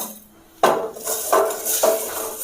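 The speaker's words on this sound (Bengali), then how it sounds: "প্রথমেই আমি শুকনো খোলায় এই যে যেটা গোটা ধনে একটু জিরে তেজপাতা শুকনো লঙ্কা এটা একটু নেড়ে নেবো" A spoon scrapes and clinks against a dry pan while stirring whole coriander, cumin, bay leaf and dried chillies, with three distinct metallic scraping strokes, close and clear, with no talking.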